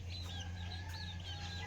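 Chickens cluck softly nearby over a steady low hum, with a few short high-pitched bird calls mixed in.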